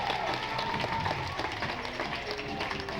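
Audience at a Universal Studios show applauds a slime-covered guest, a dense steady wash of clapping with crowd noise and a faint voice running underneath.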